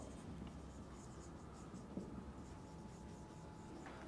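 Chalk or pen writing on a board during an AC circuits lecture on power factor, a faint steady scratching under a constant room hum with no talk.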